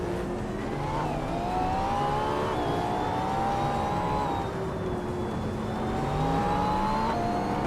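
Race cars in a racing video game leave the start line at Istanbul Park, their engines whining steadily with overlapping pitch sweeps as they accelerate and shift, continuous and fairly close.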